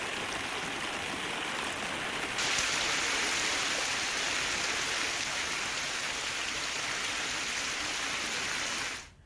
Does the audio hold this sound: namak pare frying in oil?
no